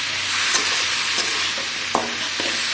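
Okra (ladyfinger) frying in a pan for a fish curry, a steady loud sizzle with a few sharp clinks of a spatula stirring against the pan, no voices.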